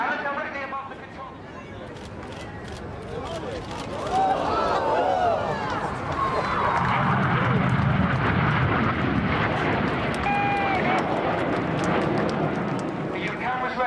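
Red Arrows RAF display jets pass overhead with a broad, rising roar that swells midway and holds loud, while a commentator speaks over the noise.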